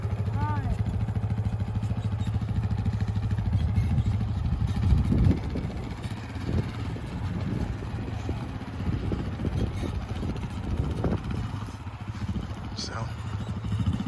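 A four-wheeler ATV engine runs at low, uneven revs as a beginner rider eases along, the motor fairly close and steady beneath ongoing conversation.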